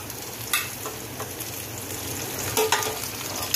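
Humba ingredients are sautéed with onion and garlic in a pan, giving a soft, continuous sizzle with a few scrapes and clinks of stirring, heard alone.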